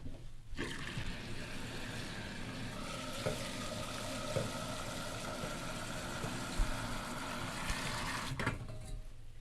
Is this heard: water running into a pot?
yes